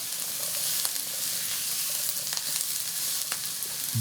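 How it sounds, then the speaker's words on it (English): Sliced apples cooking in a hot frying pan give a dense, even sizzle, broken by a few faint clicks from a utensil stirring them, close up with no voices. "Let's give it a little stir."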